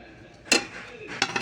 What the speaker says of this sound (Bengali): এখন ঢেকে দেবো আস্তে।